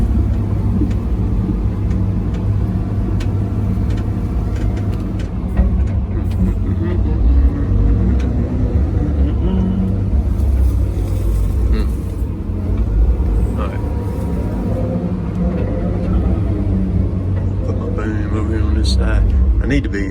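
A Volvo 700 excavator works at a logging site beside a concrete pile on soft ground, its engine giving a steady, heavy low rumble that stays loud and close throughout, with voices heard over it.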